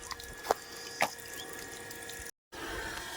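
Water runs steadily from a well's black plastic pipe with a constant rushing flow, two sharp knocks or drips standing out, and a brief cutout near the end.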